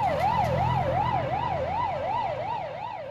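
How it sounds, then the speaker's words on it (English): An ambulance siren wailing in a fast, regular up-and-down sweep, loud and close, over a low engine rumble. "started the engine, and, the thing I'd been looking forward to most of all, turned on the siren."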